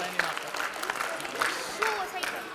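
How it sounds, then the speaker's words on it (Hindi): An audience at an annual general meeting claps to welcome a student, a scattered round of applause with sharp individual claps while people talk over it. "अच्छा अभी जाकर जोरदार तालियों से स्वागत करें।"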